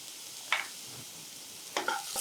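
Chopped carrot tossed into half-fried vegetables in a hot pan, prepared for kuzhi paniyaram, brings short bursts of sizzling and stirring scrapes against a faint background hiss.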